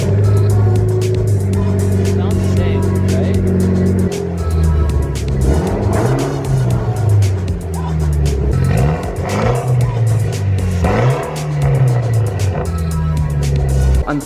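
A Mitsubishi Evo X with a turbo-back straight pipe exhaust runs close by, first holding a steady rumbling idle, then revving repeatedly in rising and falling swells, with people talking nearby.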